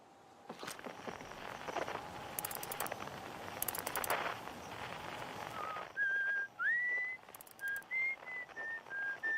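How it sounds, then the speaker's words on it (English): A video game character whistles a series of short notes, rising and wavering, coming through clearly after some clattering and busy background noise. "Who's up there whistling?"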